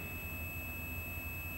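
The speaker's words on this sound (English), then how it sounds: "Do you hear? Yes, the buzzer sound" A continuous electronic tone from a multimeter continuity tester touched across the pins of an electric motor coil, a steady high pitched buzz held without a break, with no voices.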